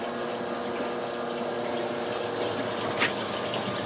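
A reef aquarium's protein skimmer pump running as water flows from the tank through the system: a loud, continuous churning gurgle with a brief splashy surge near the end.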